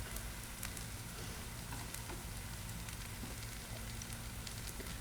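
Steady, dense crackling sizzle of food frying in a pan, continuous and fairly quiet, with no talking.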